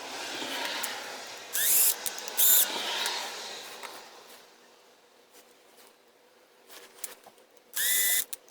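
Ratchet tightening bolts on a Sur Ron electric motorbike jackshaft after Loctite is applied, with a few bursts of fast clicking and whirring interspersed with quieter ratcheting and handling, close by with no talk.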